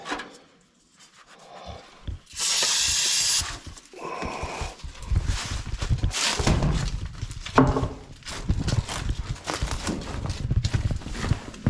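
Ether starting fluid sprayed into a rat rod engine: a loud hissing spray burst, then cranking and rough engine sputters with clattering knocks continuing throughout.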